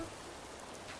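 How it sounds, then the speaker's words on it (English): Steady rain falls in Animal Crossing: New Horizons, a soft, even hiss that is faint and continuous, with no voices over it. "It's raining today."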